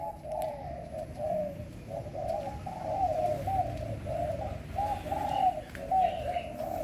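Pigeons cooing in a steady, repeated low rhythm close by, with a soft chirp or two over a murmuring background and no voices.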